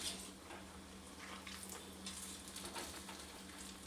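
Dahi vada batter frying in hot oil in a kadhai over a medium flame, a quiet continuous sizzle and bubbling hiss with no voices.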